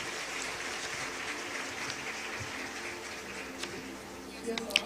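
Steady applause from a crowd fills the room at a World Environment Day 2025 event, a soft continuous patter with a few sharper claps near the end.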